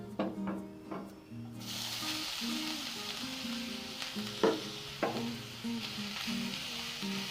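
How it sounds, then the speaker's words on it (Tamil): Grated carrot for carrot halwa hits hot ghee after a few quiet knocks, then a steady bright sizzle takes over with occasional louder stirring clacks, close by and no voices. "அந்த நெய்யிலே நம்ம சீவி வச்ச கேரட் ஆட் பண்ணிக்கலாம்."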